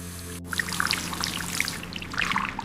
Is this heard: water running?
yes